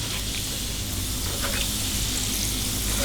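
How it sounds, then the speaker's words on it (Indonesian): Kencur, aromatic ginger, frying in hot oil in a pan, giving a steady, dense sizzle that holds at an even level throughout with no talking. "lanjut goreng kencur"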